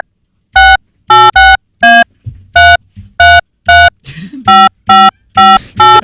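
A call is placed from a live radio studio. Loud, clean telephone keypad tones beep one after another in short separate bursts, with brief gaps and a faint line noise between them, and no talk over them.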